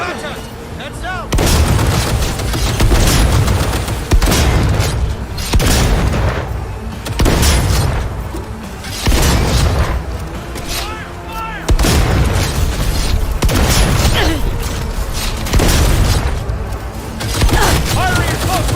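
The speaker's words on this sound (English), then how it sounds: "Firing at close range!" Close-range gunfire in the video game Cyberpunk, with dense, booming bursts of shots and explosions repeating throughout, loud and near, while voices shout over the combat.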